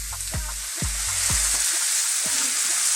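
Mushrooms sauté in a hot pan for a pork chop cheese cream sauce, a bright steady sizzle with a few sharp clunks of stirring early on, close and alone.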